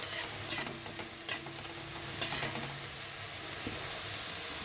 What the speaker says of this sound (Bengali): পেঁয়াজটা ভাজা হচ্ছে